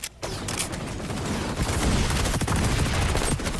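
Rapid gunfire rattles on in XDefiant, a continuous loud burst of repeated shots after a brief quiet start, close and dense throughout, with no talk over it.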